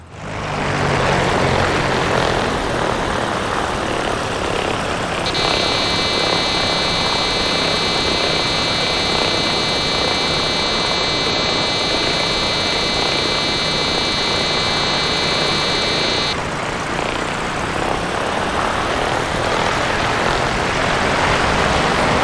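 The propeller engine of a PA-38 Tomahawk light aircraft in the X-Plane 11 flight simulator drones loud and steady in flight, a dense continuous roar with a faint high whine holding through the middle.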